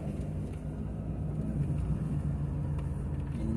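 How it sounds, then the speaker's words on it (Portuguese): A loaded Volvo FH 540 sugarcane truck holds its engine brake while creeping out of a field at about 11 km/h, a steady low rumbling drone that stays loud and even throughout. "Segurando no freio motor."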